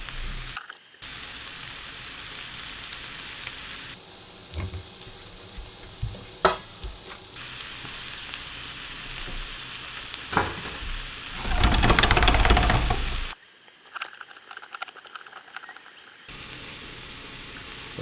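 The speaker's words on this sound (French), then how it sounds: "On peut même peut-être commencer à retourner les morceaux qui sont déjà blancs là." Chicken pieces fry in a dry pan with no added fat, a steady close sizzle with scattered clicks and scrapes as the pieces are turned, swelling into a louder hissing burst before quieter stretches.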